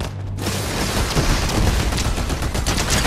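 Dense, continuous video-game gunfire from a shooter, rapid overlapping shots and booms forming a loud fusillade that fills the whole stretch after a brief quiet start, with no talking.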